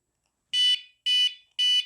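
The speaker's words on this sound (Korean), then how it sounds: "끼우면 삐삐삐 소리가 납니다" A bicycle and motorcycle anti-theft alarm (Noiulim 3.0) sounds as its battery is inserted: three loud, evenly spaced electronic beeps, each a bright, harsh tone, with silence between them.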